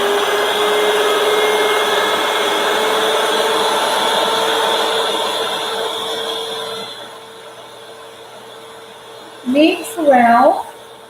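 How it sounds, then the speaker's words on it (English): An electric hand mixer whirs steadily through cornmeal cake batter for about seven seconds, a loud continuous motor hum that fades out, followed by brief speech near the end. "And now use the mixer."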